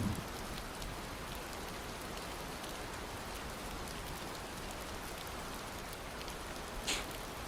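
Steady rain patters on a surface in a dense, even hiss, moderately close, with a single brighter splash near the end.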